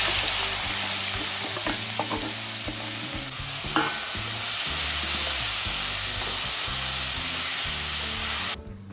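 Onion for pav bhaji frying in a pan, a continuous loud sizzle with steady stirring and scraping throughout, close by, cutting off abruptly at the end, no talking.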